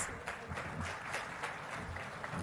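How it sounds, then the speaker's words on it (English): Steady applause from an audience at a presentation on Musi river rejuvenation attended by the Chief Minister, a dense wash of clapping that holds evenly throughout without any speech. "onto the stage to set the context with a warm round of applause"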